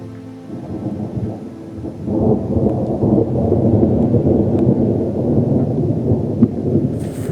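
A thunderstorm sweeps in with rolling thunder and heavy rain, a loud continuous roar of rumbling and downpour that builds after the first couple of seconds and stays dense to the end, with no voices.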